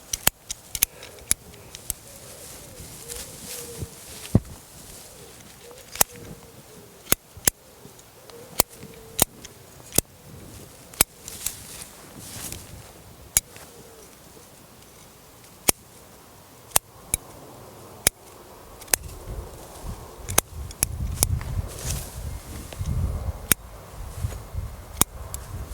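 Pruning shears cutting back long shoots on a Japanese niwaki garden tree outdoors, a series of crisp, close snips at irregular intervals, with faint bird cooing in the background and rustling foliage toward the end.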